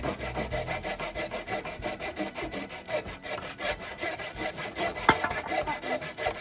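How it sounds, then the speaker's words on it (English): A handsaw cuts through wood on a broiler shelter frame in quick, steady back-and-forth rasping strokes, close and fairly loud, with no talking. "So we are going to use a handsaw."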